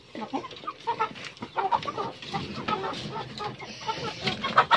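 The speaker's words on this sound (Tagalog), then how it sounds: "yung aking mga alagang manok pag nagpapakain ako" Several chickens cluck and murmur in a busy, overlapping flock, with scattered louder squawks close by.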